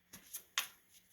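Tarot cards are shuffled in a few brief, soft riffling bursts, quiet and close, with short pauses between them.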